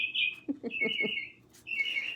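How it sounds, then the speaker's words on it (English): A small bird chirps in short, bright tweets, opening with a sustained trill, then a quick run of clipped notes, a brief gap and another trill, close by and fairly quiet with no talk. "hello bird"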